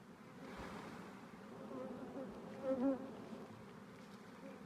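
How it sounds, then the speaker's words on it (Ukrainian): Honeybees buzz in a dense, steady drone while hive frames of brood and honey are handled and shaken, the swarm close and continuous with a brief louder surge partway through. "Трусю їм бджолу і виламую їм маточники."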